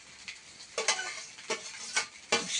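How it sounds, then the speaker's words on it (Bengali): Chow mein fries in a pan at home, with a steady sizzle broken by repeated scraping stirs of a spatula, close and moderately loud, no one speaking. "এদিকে দেখছি চাউমিন ভাজা"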